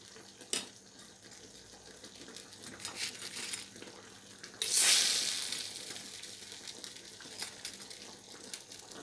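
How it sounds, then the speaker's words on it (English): Fish balls with flaxseed cook in turmeric sauce in a pot, giving a soft, close sizzle and bubbling with scattered taps and crackles, and one louder burst of hissing in the middle. "I'm going to add my fish balls to it. And let them simmer just for a little"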